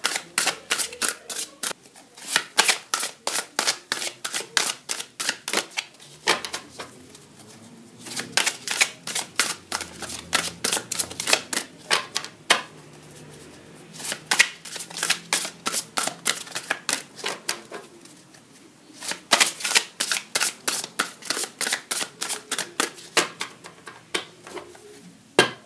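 A deck of tarot cards being shuffled, with rapid crisp riffling clicks in repeated bursts separated by brief pauses, close and alone with no talking.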